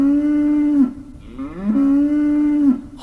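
A cow moos twice in long, loud, sustained lows, close by, with a brief pause between the two calls.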